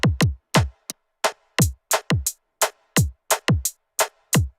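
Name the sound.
hi-hat sample on Elektron Model:Samples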